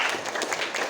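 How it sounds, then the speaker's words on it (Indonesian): A classroom of junior high students applauding together, a dense patter of many hands clapping at close range with a faint voice underneath, lasting about a second. "Tepuk tangan buat kita semuanya dong."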